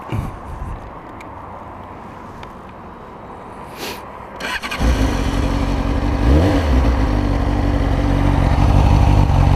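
Some clicking and fiddling, then a Honda CBR600F motorcycle engine cranks and catches around midway, settling into a loud, close, throaty idle with small revs.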